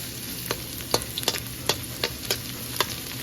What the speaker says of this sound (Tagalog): Ngayon prituhin na natin yung ating bawang, mainit na yung mantika